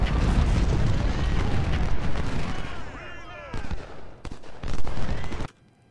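Musket and cannon fire rumble through a Civil War battle in the game Ultimate General: Civil War, a dense roar of overlapping shots and booms that thins into a few sharp reports before cutting out, with a voice talking over it.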